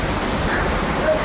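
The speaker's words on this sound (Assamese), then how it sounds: "জলপ্ৰপাত" A hillside waterfall roars in a constant, dense wash of falling water, loud and unbroken, with no other sounds over it.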